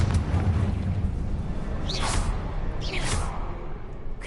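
Confringo blasting curse explosions in Hogwarts Legacy, a steady low rumbling roar carrying two swooshing bursts about a second apart, fairly close and moderately loud.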